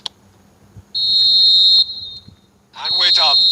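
Referee's whistle in an eFootball match, sounding as two bright sustained blasts, the first held about a second, the second following after a short gap with a burst of crowd noise and commentary under it.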